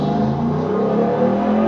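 A 2021 Ram 1500 TRX pickup truck engine holds a high, revving drone at launch control, loud, close and steady with a faint echo.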